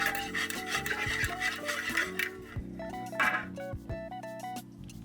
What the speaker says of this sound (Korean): 휘퍼로 계란을 풀어줍니다.